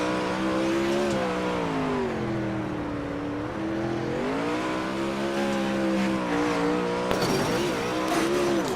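Racing car engine from a sim racing game, heard from the McLaren onboard at I-55: a loud, steady harmonic drone that sags and rises with throttle, with a sharp shift near the end.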